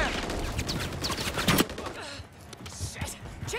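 Gunfire from the Call of Duty: Modern Warfare 3 (2023) multiplayer beta, with a Scorpion Evo in play: rapid bursts of close, loud shots with a sharp peak near the middle, mixed with a voice and game noise.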